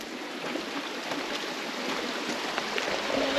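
Tulip Creek in Tasmania flows along a bushwalking trail, a steady broadband rush of running water held at an even level throughout, close by with no voices.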